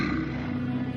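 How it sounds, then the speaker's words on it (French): A polar bear roars near an igloo in the Canadian Arctic, a sustained loud, rumbling growl heard close and alone for the whole second, with no talk over it. "Soudain, près de leur igloo, surgit un ours blanc."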